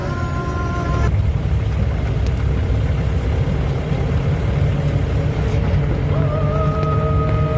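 A jeep engine drones steadily up close as the vehicle pulls away on a trip near the North Bay landing in the Andaman Islands, a constant low rumble with no voices.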